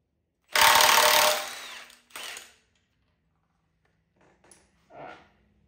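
A handheld power tool, likely an impact gun, bursts loudly for about a second and again briefly, removing the crank pulley from a JDM K24 engine, followed by quiet clinks of handling.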